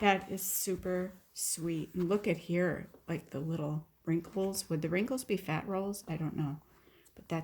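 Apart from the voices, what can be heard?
No everyday noises stand out.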